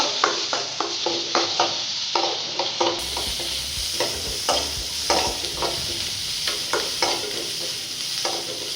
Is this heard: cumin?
yes